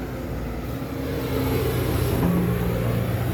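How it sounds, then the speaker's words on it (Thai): A Komatsu PC200-CE excavator with a four-cylinder diesel engine runs steadily nearby, a continuous low rumble that swells slightly partway through, with no talking over it. "อย่าลืมว่าเครื่องยนต์4สูบนะครับ"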